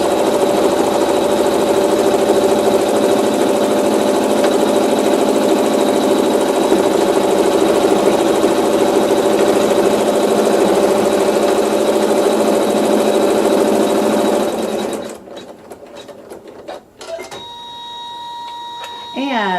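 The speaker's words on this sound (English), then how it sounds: "And then you're going to sew a tack down stitch." A sewing machine stitches a tack-down line with water-soluble thread in a continuous, fast, loud mechanical whir that runs for about fifteen seconds and then stops abruptly, leaving softer clicks and handling noises.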